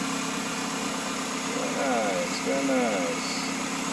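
A 1990 Honda Integra GSR's B18C1 engine with a Skunk2 intake and throttle body idles in a steady, even hum close by, while people talk briefly over it.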